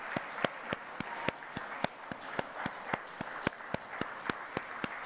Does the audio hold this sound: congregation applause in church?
yes